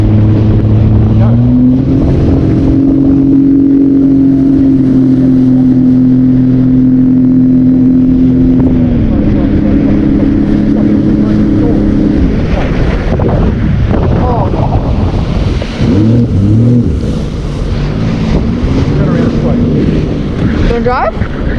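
A jet ski engine runs loud and steady on open water, its pitch holding and then shifting as the craft accelerates and turns, with wind buffeting the microphone and people talking over it near the end.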